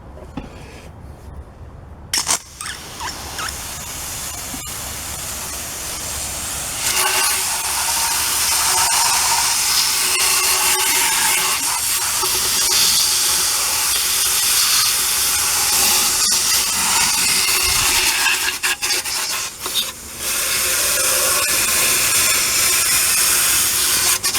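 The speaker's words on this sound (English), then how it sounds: "I'm gonna see if I can get a little bit cleaner using garden hose." Garden hose spraying water to clean a Chevrolet Tahoe headlight, a loud steady hiss of rushing spray that runs almost continuously after a brief quiet start, with a few short breaks.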